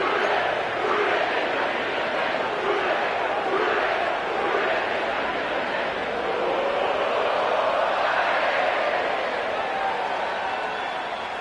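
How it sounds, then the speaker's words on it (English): A sellout crowd at Paycor Stadium in Cincinnati roars in a steady, loud, continuous wash in an EA Sports Steelers vs Bengals football video game. "sellout crowd has arrived at Paycor Stadium in Cincinnati"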